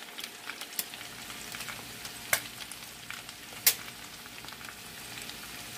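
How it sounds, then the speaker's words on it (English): Potatoes sizzle and crackle steadily in a hot pan, with a few sharp pops and faint stirring sounds, close and fairly quiet. "It's frying on the bottom just like I like it."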